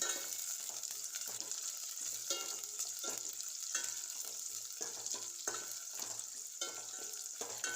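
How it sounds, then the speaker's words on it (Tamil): Small shallots and garlic sautéing in oil with curry leaves, a steady close sizzle with repeated scraping stir strokes at an even rhythm and no voices. "சின்ன வெங்காயம் ஒரு கப்பு நறுக்கி வச்சுருக்கேன் அதையும் சேர்த்து நல்லா வதக்கிக்கலாம்"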